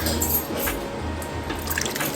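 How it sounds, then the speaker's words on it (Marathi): Water splashes and gurgles as it is poured into a pot, close and continuous for a couple of seconds with no talking. "थोडंसं जास्तच पाणी टाकायचं"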